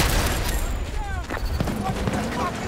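A grenade blast and demolition charges going off in a Battlefield 2042 Breakthrough battle, with booming impacts and crackling debris over a dense wash of combat noise, radio-style callouts and voices heard throughout.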